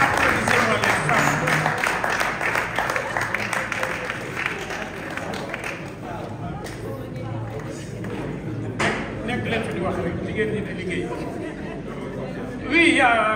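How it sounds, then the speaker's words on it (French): Women applaud during a symbolic handover ceremony for listening-station kits at a regional cultural centre, a moderate, scattered clapping mixed with crowd chatter and voices, fading somewhat midway. "Applaudissez-moi les femmes."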